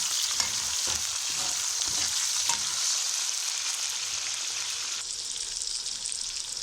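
Eggplant slices sizzle and fry in an oily pan, a steady close hiss running throughout with a few soft stirring clicks and scrapes along the way.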